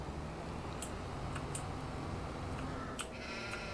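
Goats and sheep bleating in the farming video game Farming Simulator 22, a few short calls scattered over steady ambient game noise with no talk.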